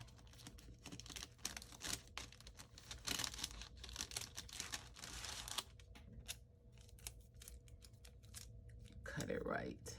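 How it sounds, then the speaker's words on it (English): Adhesive tape being pulled off a roll while making denim and pearl journal embellishments, heard as a few close crinkling, ripping bursts with paper handling, and no talking over it. "So just pull a piece of tape off."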